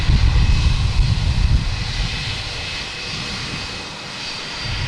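A JetBlue Airbus A321 jet aborts its landing at Boston Logan Airport, a loud, broad engine roar heard at a distance, strongest at the start and easing slightly as it passes.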